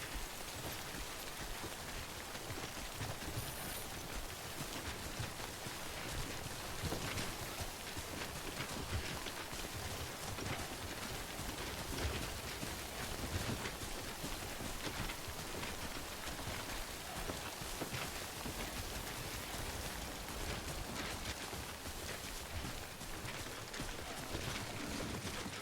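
Steady rain falls in the video game Death Stranding, a dense, even hiss of drops spattering on surfaces that continues at the same level throughout, with no talk.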